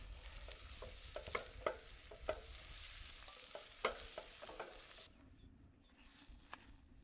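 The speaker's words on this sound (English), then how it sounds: "The meat is cooking, the beets are frying" Beets and meat frying in a pan over an outdoor campfire: a soft continuous sizzle broken by scattered clicks and scrapes of stirring, fairly quiet, with the sizzle thinning out toward the end.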